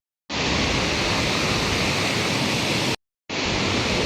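A loud, steady roar of water rushing through open spillway gates fills the air, cutting out abruptly for a moment before resuming just as strongly.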